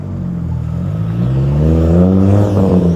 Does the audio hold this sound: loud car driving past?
yes